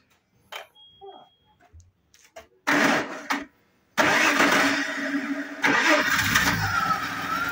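An Audi engine, just reassembled after its flywheel was replaced to cure a knocking noise, cranks briefly, then catches and settles into a loud, close, steady idle after some faint clicks and handling noises.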